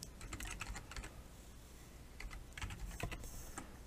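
Quick bursts of keystrokes on a computer keyboard as an email address is typed, faint and close, with short pauses between runs of clicks.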